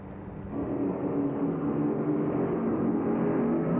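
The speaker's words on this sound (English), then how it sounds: "the boats were brought up to full race speed right in front of the town" A powerful engine drone swells and holds at a steady roar as Class 1 offshore powerboats race past close to shore at full race speed in a narrow stretch of water, loud and continuous without speech.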